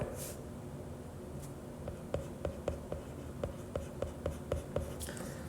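A maths teacher sketches a function graph by hand during a lesson: a pen or marker makes a quick run of about a dozen short, rhythmic scratching strokes, close and fairly quiet over a faint room hum.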